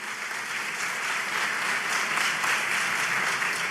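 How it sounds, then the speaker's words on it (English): Steady applause from an audience at a press conference on affordable housing in Atlanta, dense clapping held at an even level throughout with no voices on top. "let's clap for home ownership"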